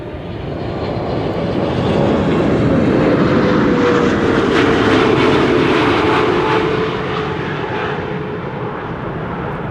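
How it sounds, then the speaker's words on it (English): Boeing 777-300 jet arriving at Amsterdam Schiphol Airport on a frosty day, a loud continuous engine roar that swells and peaks mid-pass with a faint descending whine, then eases slightly as it passes, with no talk. "777-300 arrival from Rio de Janeiro also coming."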